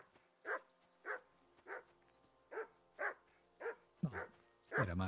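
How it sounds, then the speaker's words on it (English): A dog in the medieval video game Kingdom Come: Deliverance II barks steadily, about seven evenly spaced woofs at moderate distance. Voices come in near the end. "Call No. that dog to heel. Mutt! What's all the fuss about, Mutt?"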